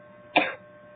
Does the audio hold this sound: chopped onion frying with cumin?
no